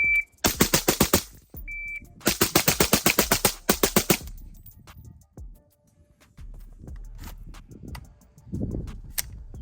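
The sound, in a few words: PSA Sabre AR15 rifle firing rounds from 20-round magazine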